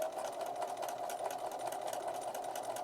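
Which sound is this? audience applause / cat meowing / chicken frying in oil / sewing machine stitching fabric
sewing machine stitching fabric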